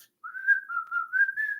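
A person whistles a tune alone, a clear, fairly faint melody of several short sustained notes gliding up and down with no other sounds around it.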